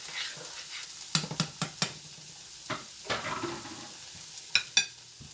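Grits sautéing with corned beef in a pot on a stove, giving a soft sizzle under a handful of spoon-against-pot knocks and scrapes that come in short clusters, close by, with no talk.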